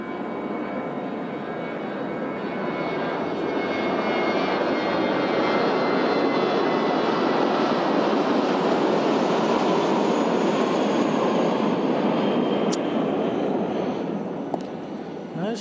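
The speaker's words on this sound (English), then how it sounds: "Those planes are certainly noisier taking off than landing." A jet airplane taking off near a junior league baseball field, a loud, broad roar that swells over several seconds and holds steady, dominating the outdoor scene.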